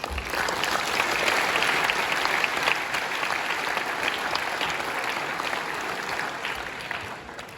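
Strong, sustained applause from a congress audience greeting award winners onto the stage, a dense, even roar of many clapping hands lasting over seven seconds before easing slightly.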